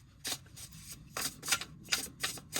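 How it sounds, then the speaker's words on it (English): A deck of tarot cards is riffled and shuffled up close, several quick papery bursts in an uneven rhythm with short quiet gaps in between. "2 more shuffles here and we'll get started"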